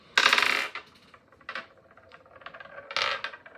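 Dice dropped and tumbling across a hard surface: a sharp clattering burst, then a few lighter rattling bounces and a second loud clatter, close and alone without speech.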